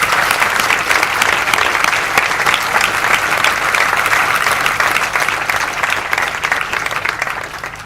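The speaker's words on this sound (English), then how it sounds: "can we give them a brief round of applause?" Loud, sustained applause from a large audience at a university graduation ceremony, continuous clapping that fills the whole stretch and tapers slightly at the end.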